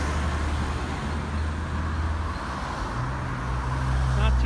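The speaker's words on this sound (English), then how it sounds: "Looks like we're going to have a large truck turn down the road too." Heavy rush-hour traffic rumbles on a city road as a large truck turns onto it, its low engine drone rising toward the end over the steady roadway noise.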